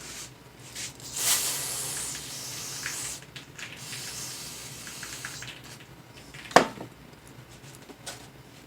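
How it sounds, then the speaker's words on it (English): Brake cleaner sprayed from an aerosol can onto parts of a Ford Expedition in a home garage: a short, loud hissing burst near the start, then a sharper spray pulse later over quiet background clatter. "let's break out some brake cleaner."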